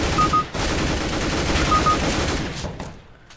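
Gunfire in Counter-Strike: Global Offensive, rapid bursts of automatic shots crackling densely over a few seconds, loud and close, with a brief gap and fading out at the end.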